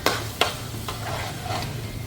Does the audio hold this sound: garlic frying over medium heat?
yes